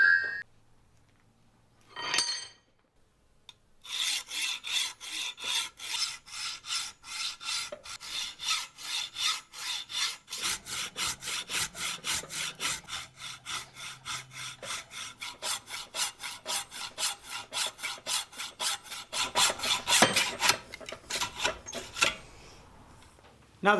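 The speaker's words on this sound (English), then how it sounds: "Now that the chain has been cut" Steady rhythmic rasping of a saw grinding through a 100-year-old metal anchor chain, fast back-and-forth strokes continuing for a long stretch, close and fairly loud.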